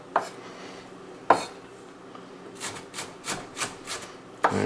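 A knife rocks and chops on a cutting board, giving sharp close taps at intervals followed by a quicker run of rhythmic scraping strokes, with no talking.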